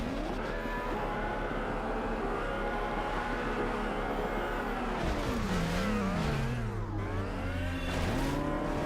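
A car engine in the PS2 game Midnight Club II, during Tokyo circuit races, drones loudly and steadily, then revs and drops pitch twice through quick upshifts, with faint tire noise under it.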